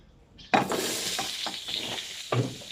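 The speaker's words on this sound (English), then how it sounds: "3 onions roughly chopped here that I'm just going to fry off" Three roughly chopped onions fry in a pan, a steady sizzle broken by several stirring scrapes and clatters, close and fairly loud with no talking.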